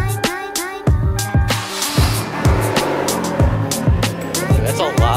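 A car with its muffler removed and a straight pipe exhaust barks through sharp, repeated revs and blips, loud and close, with bursts of raspy exhaust between pulses.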